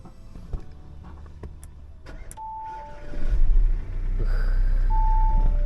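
A car at an impound-lot auction is started with its push-button start-stop: a short electronic chime sounds, then a deep engine rumble catches and settles into a steady, loud idle.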